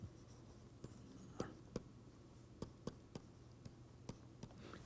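Chalk or pen writing by hand during a maths lecture on Krull's theorem, heard as a series of faint, irregular taps and scratches over a low room hum, with no voice.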